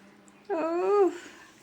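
A dog gives a single short, high-pitched whimper, close and clear against a quiet background.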